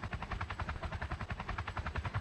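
A helicopter in the Roblox game Polybattle gives a steady rotor chop, fast rhythmic thumping held at an even, moderately loud level with no talk.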